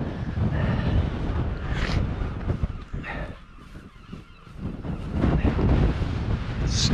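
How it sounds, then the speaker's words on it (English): Strong gusts buffet the microphone at a wild camp on Scotland's east coast, roaring in heavy bursts that briefly ease midway before building again, with distant honking fowl. "So windy."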